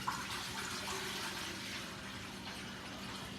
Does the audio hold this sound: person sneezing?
no